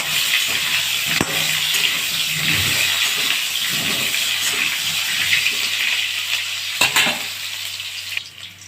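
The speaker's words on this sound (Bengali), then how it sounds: "এই মাংসে আলু না ভাজলেও হয়, তবু আমি একটু ভেজে নিচ্ছি" Potato pieces frying in oil for a Bengali-style mutton curry with green chillies, a loud close continuous sizzle with occasional sharp clatters of a spatula against the pan, fading slightly at the end, no voices.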